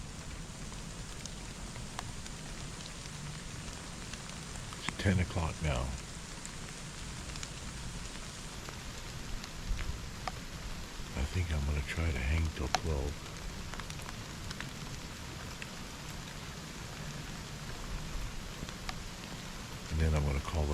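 Steady rain patters on surfaces all around, while someone speaks quietly now and then over the constant hiss.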